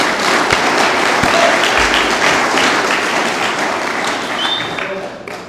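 An audience at a Narcotics Anonymous men's retreat claps for several seconds, a dense close patter of many hands that thins slightly toward the end.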